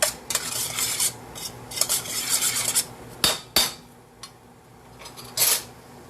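A utensil stirs ingredients in a bowl in a home kitchen, making scraping, clinking strokes in uneven bursts, with a couple of sharper knocks against the side. The stirring is close and moderately loud, and no one talks.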